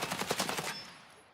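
Rapid automatic gunfire in the shooter game Escape from Tarkov, a quick burst of about eight evenly spaced shots at moderate distance, then a fading tail, no talking.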